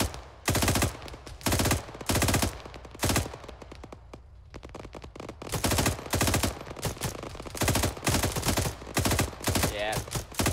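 Arma 3 gunfire during a combined-arms military operation: loud, dense bursts of automatic fire and rapid shots with brief pauses, close and continuous through most of the stretch.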